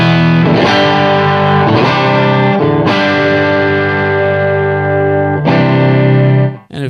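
Electric guitar on its bridge pickup played through a 20-watt Marshall Model 2019 Bass 20 amplifier, giving loud, distorted chords. A few strums ring out and sustain at length before cutting off.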